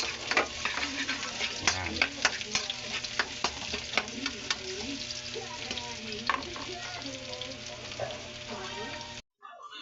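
Sliced onions sizzle and fry in a pan for a Filipino misua-with-sardines dish, with steady crackling and repeated scraping stirs at close range, and someone speaks briefly over the cooking.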